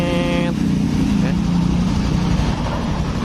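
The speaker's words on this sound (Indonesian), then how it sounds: "Ini suara mesinnya lembut sekali nih." A motorcycle engine idles smoothly and steadily with a low, even rumble throughout, close by in a workshop during an engine rebuild, with no speech over it.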